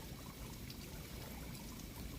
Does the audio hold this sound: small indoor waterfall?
yes